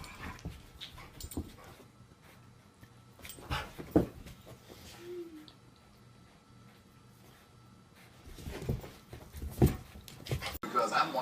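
A dog gives soft whimpers and short whines between stretches of people talking, close but fairly quiet, with some rustling and bumps.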